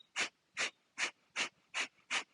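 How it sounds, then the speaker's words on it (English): Forceful exhales sniffed sharply out through the nose during a morning breathing flow: six strong, evenly spaced bursts about 0.4 seconds apart. They are close and loud, with the inhales barely audible and no talk. "you're sniffing every exhale through the nose"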